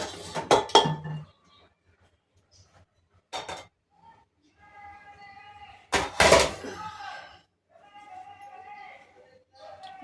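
Pots and steel utensils clank and clink in a home kitchen while tempering is prepared for rasam, with a few sharp metallic knocks spread between quieter stretches and brief sizzling, heard alone.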